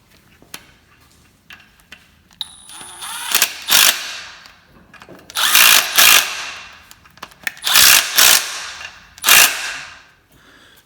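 Tools work nuts down onto studs while a timing chain tensioner goes into a Toyota 1ZZ-FE 1.8L engine, several loud bursts of metallic ratcheting and buzzing with short pauses between, close up and without talk.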